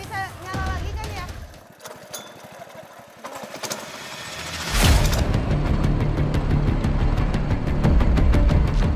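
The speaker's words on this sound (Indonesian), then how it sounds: "Beruntung mesin perahu bisa menyala kembali dan kami pun melanjutkan perjalanan" A pompong riverboat engine in Indonesia sputtering back to life, with a speaking voice, a brief stall and uneven knocking, then settling into a loud, steady chugging run close by.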